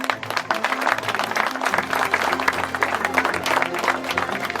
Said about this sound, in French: donc on peut l'applaudir, le remercier.